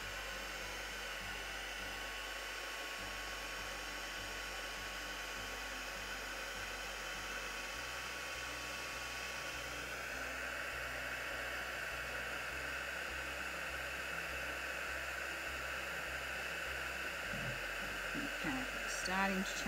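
A heat gun blows steadily, a constant faint whooshing hiss of moving hot air that barely changes across the stretch, with a few small clicks near the end.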